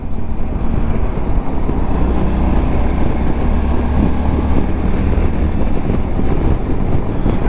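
Steady roaring wind buffets a helmet while riding a VOGE 650DSX motorcycle, a dense continuous rush mixed with low engine drone that holds loud and unbroken throughout, with no talking.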